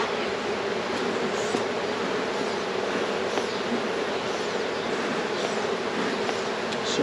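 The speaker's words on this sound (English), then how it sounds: "So many bees." Honeybees swarm around an open hive, a dense, steady buzzing drone that stays close and loud throughout with no voices.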